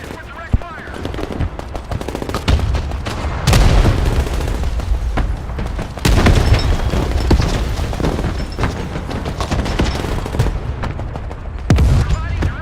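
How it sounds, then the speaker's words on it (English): Artillery and direct fire in the Broken Arrow strategy game: machine-gun rattle and loud booming impacts, with several heavy blasts standing out, under radio-style unit voices calling out orders. "Artillery engaged. Command your orders. Engaging target with direct fire."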